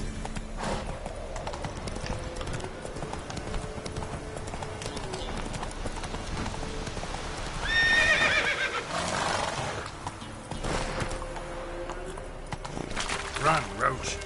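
Roach the horse gallops with rhythmic clip-clop hoofbeats in The Witcher 3, letting out a sharp neigh partway through, with a voice urging it on over the hooves.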